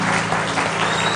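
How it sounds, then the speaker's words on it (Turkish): Big round of applause from a television studio audience, dense steady clapping that fills the whole short moment at even loudness. "Kocaman bir alkış."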